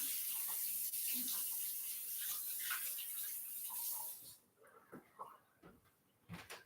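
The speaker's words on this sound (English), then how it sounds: "I'm gonna wash my hands." Water from a running tap splashes steadily into a sink as hands are washed, a continuous broad rush that cuts off abruptly partway through, leaving a few faint drips and small knocks.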